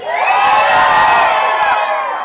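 Crowd in a Mexican restaurant shouting together on a count of three, a loud unified cheer of many voices that rises, holds for about two seconds and then trails off.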